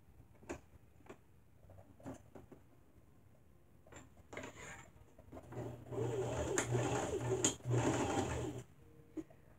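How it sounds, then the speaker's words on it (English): A sewing machine back stitches through a quilted pot holder towel, starting with a few scattered clicks and short bursts, then running in a steady close mechanical whir for a couple of seconds before stopping. "On one side, we're going to back stitch just the way the machine is set."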